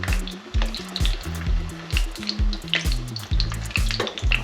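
Potatoes frying in plenty of extra virgin olive oil, a steady close sizzle broken by repeated low clanks and scraping of a utensil against the pan, with no talking.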